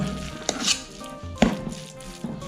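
Seasoned rice being mixed in an electric rice cooker pot, with scraping and clinking of a utensil against the pot in a few distinct knocks amid soft stirring.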